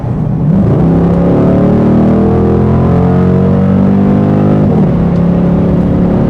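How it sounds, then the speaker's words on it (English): A loud, deep V8 engine of a 2008 Dodge Challenger revs up and holds a throaty roar, pitch rising and settling, then revs again, close and continuous with no talking. "It's a big V8. And then there's the sound. Just listen to this."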